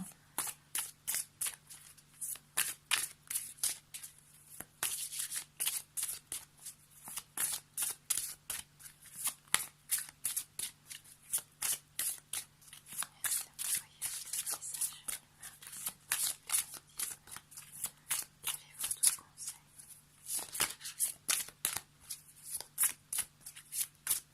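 Tarot cards are shuffled by hand for a daily reading, producing a long run of quick, crisp riffling flicks in steady rhythmic bursts, close and fairly quiet over a faint low hum.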